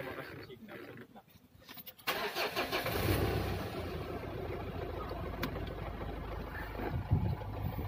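A Mitsubishi Montero's starter cranks briefly before the engine catches and settles into a steady, fairly close idle hum, with voices talking faintly in the background.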